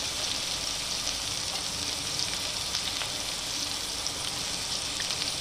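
Tomatoes sizzle in a hot pan along with green chilies, ginger and coriander for a chutney, giving a loud, steady, close frying hiss that runs without a break.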